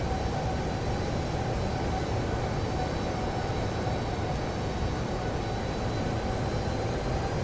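United Airlines Boeing 757 airliner in the Prepar3D flight simulator, cruising ahead of descent on a Newark to O'Hare flight: a steady, broadband cabin and engine roar that holds constant throughout, with no talk over it.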